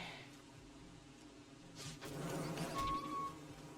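Bees buzzing in the Don't Starve video game, a faint insect drone that swells toward the end, low and continuous under quiet game ambience.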